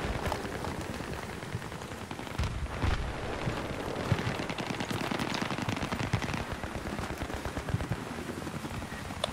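Rapid machine gun fire from a Battlefield 3 match, with dense bursts of sharp shots and heavier impacts layered over a loud, continuous battle din.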